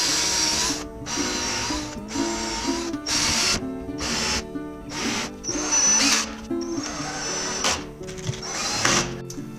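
A power drill or driver screws wooden pieces onto the edges of a plywood kitchen cabinet for a tiny house, running in repeated short whirring bursts with brief pauses between them, loud and close, with no talking.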